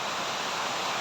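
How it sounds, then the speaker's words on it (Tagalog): Steady, dense broadband hiss of heavy rain pouring down close by, constant and unbroken with no voices. "Lakas ng ulan."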